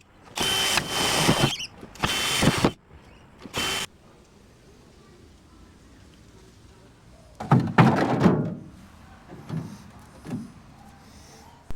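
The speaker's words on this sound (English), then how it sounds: "I'm going to get a drill, and from this side I'm going to drill some holes as a guide through" A power drill bores guide holes through a Ford Territory car bonnet, several loud whirring bursts of a few seconds each at close range, separated by quiet gaps, followed by a few shorter, fainter drill bursts.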